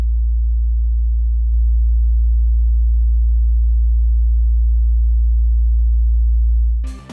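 A steady, loud 57.17 Hz sine test tone hums continuously as a deep low-frequency drone, then stops abruptly at the end with a brief click.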